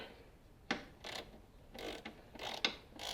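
A ratchet with a 1/2 inch socket on a short extension turns to tighten a pulley on a Toro Timemaster mower, giving several close, quiet clicking and creaking strokes in an uneven rhythm, with no talking.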